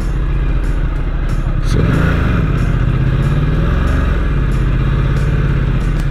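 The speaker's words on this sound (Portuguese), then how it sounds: "modo esporte ela fica mais braba, entrega de potência mais rápida" A Ducati XDiavel motorcycle rides through city streets in sport mode. The engine gives a loud, continuous drone with a brief rev swell partway through, heard up close without voices.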